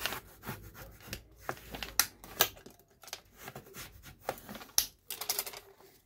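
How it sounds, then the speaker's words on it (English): A bone folder burnishing the fold of a paper shopping bag: close, dry rubbing and scraping strokes in short uneven bursts, with no talking. "take bone folder and burnish."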